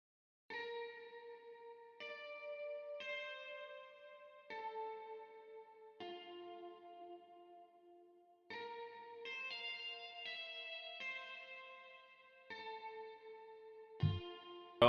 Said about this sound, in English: my guitar is the Evolution Strawberry out of Contact, a very known guitar.